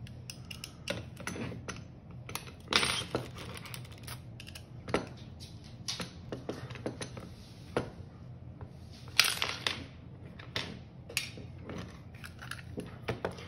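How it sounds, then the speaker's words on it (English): Small Phillips head screw being unscrewed from a Hi-Capa airsoft pistol, quiet irregular clicks, scrapes and creaks of the driver and metal parts at close range, scattered over several seconds with pauses between. "a Phillips head. We're just gonna unscrew that."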